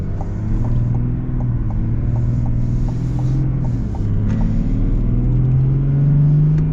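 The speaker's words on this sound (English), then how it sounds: "you got the deep diesel sound, you got this nice whistle with it too" A deep diesel engine of a 2025 Ram 1500 Laramie or Ford F-150 Lariat pickup rumbles close by, its pitch rising and falling slightly, with a faint high turbo whistle riding over the steady drone.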